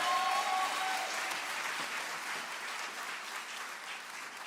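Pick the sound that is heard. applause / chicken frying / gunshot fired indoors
applause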